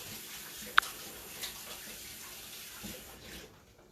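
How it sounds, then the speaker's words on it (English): Hot tap water runs steadily over hands being washed with soap at a sink, a continuous soft splashing wash with one sharp click near the start. "Washing my hands with a twist. Our water's hot."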